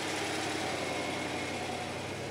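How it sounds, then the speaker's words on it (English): A big 5.6-litre V8 petrol engine in a Nissan Patrol drones steadily at a low, even pitch throughout, loud and close with no clear rise or fall in revs and no voices. "Just in case you had any doubts about what a big V8 petrol engine with 560 newton metres was capable of, it'll do this, and this."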